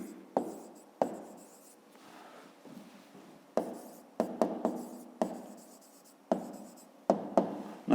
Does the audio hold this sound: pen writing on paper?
yes